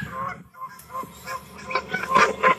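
Several geese honk in a loose burst, overlapping nasal calls rising and falling at moderate distance, with no talking.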